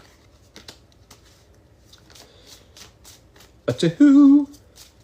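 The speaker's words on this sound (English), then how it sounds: "Oh yes, the bridge shuffle." A deck of playing cards gets a bridge shuffle: faint handling noise, then one quick, close riffle burst near the end as someone speaks a short count.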